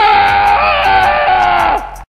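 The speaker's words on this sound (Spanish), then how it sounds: "Ese grito me resulta familiar." A loud, sustained scream rings out in the horror video game Fredina's Nightclub, holding for about two seconds before cutting off abruptly into silence.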